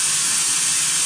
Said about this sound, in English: To operate the fill system, simply turn on the vacuum